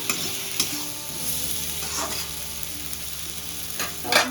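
Masala stirred and frying in a pan for a golden fish curry with okra and potato, a steady close sizzle with scraping stirs and a few sharper clinks against the pan.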